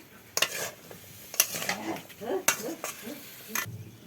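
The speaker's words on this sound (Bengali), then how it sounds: "এই মূলা আর আলুগুলো এখন সুন্দর করে নেড়ে চেড়ে কষিয়ে নেবে।" Radish and potato being stirred and fried in a spice masala in a village kitchen, with irregular scraping and clinks of a utensil against the pan over a soft sizzle, and brief voices in the background.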